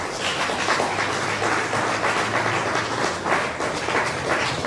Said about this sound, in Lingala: ici on peut l'applaudir